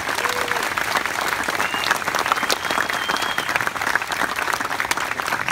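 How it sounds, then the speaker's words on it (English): Steady applause and crowd clapping for the band booster board at a high school marching band Pie in the Park evening, dense and sustained throughout with faint cheering on top. "could you please give them a round of applause?"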